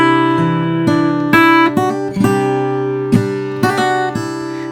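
A guitar plays Silent Night fingerstyle with a light strum, chords and plucked notes ringing out clearly and close in a gentle, unhurried rhythm, with no voice.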